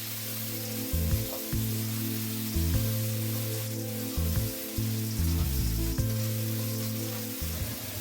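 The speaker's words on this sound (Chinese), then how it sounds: "接着下入田螺，翻炒入味。" River snails stir-fry with garlic and ginger in a wok, a steady close sizzle broken by repeated rhythmic clanks and scrapes of the spatula against the metal.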